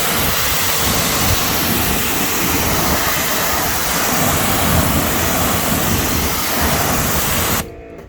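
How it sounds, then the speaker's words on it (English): A pressure washer gun blasts a strong stream of water onto a car wheel, a loud, steady broadband hiss running without a break for nearly eight seconds before cutting off abruptly. "So that's a pretty strong stream of water."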